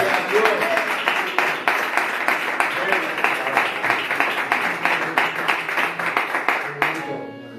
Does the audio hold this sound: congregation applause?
yes